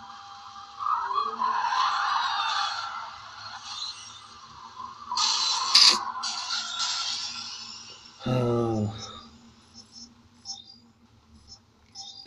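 An Indy car in a racing video game drifts and skids at very high speed, with sustained tire squeal and engine whine rising and falling, a sharp burst midway and a harsh scraping skid near the end.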